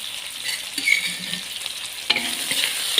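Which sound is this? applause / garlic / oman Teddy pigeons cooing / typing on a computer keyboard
garlic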